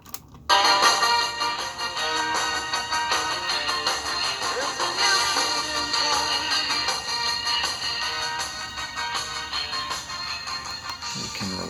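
Music plays steadily from a pre-recorded cassette tape on a Sony Walkman WM-GX221, with no talking, dense and bright with a thin, slightly hissy tone throughout.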